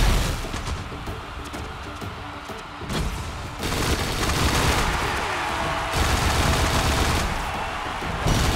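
Gunfire and explosions from the mobile shooter game FRAG Pro Shooter rattle steadily throughout, dense continuous bursts with heavier booming sections, loud and close with no talk.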